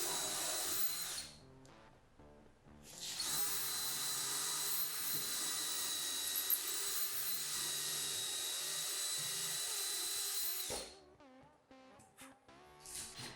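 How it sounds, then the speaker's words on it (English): A power drill with a small bit drilling a pilot hole in a wood cabinet whines at high speed in a long steady burst, briefly starting and stopping before and after, close up with no talking. "I use a small drill bit to drill a pilot hole"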